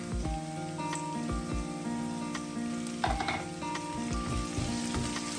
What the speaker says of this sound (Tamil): தக்காளி பழம் நல்லா வதங்கணும்.